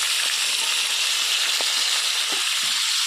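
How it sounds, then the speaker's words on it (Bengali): Capsicum, beans, spring onion, tomato and carrot fry together in a pan, giving a steady close sizzle broken by a few soft stirring clicks, with no talking. "এবার এগুলো আমি ভেজে নেব, সব একসঙ্গে ভেজে নিচ্ছি।"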